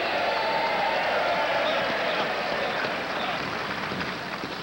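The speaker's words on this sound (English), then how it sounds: "The crowd applauding Eddie's powerful sweeping to take that stone through the rings" Steady crowd noise fills a curling arena at the 1995 Ontario men's provincial tankard tie-breaker, broad applause and murmuring held at an even level throughout, fading slightly near the end.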